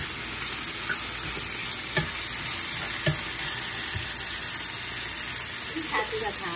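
Shredded chicken with mushroom and bamboo shoots stir-fries in a wok, giving a steady, dense sizzle with a few scraping knocks from stirring, close and continuous throughout.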